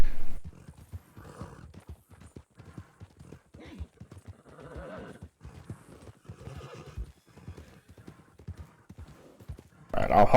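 Horse hooves clip-clop in a Western video game as a rider travels, a rhythmic trotting patter under casual talk among players, ending with a brief louder burst.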